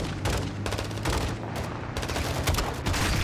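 Dense, loud automatic gunfire during a video game battle, several overlapping bursts rattling close by almost without pause.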